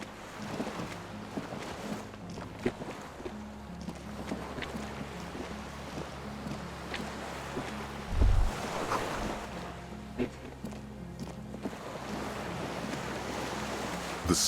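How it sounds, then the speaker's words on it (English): Waves lap at a dock where a small skiff sways in Disco Elysium, a steady soft wash of water with wind-like hiss and a low boat rumble, one brief thump partway through, no voices. "The skiff is swaying on the waves by the dock."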